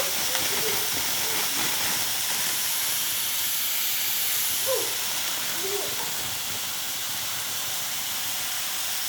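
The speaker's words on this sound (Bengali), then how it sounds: "এবার চাটা ফুটতে থাক" Tulsi leaf tea boiling in a pot, a steady steamy hiss and soft bubbling that holds at an even level for about nine seconds, with no voices.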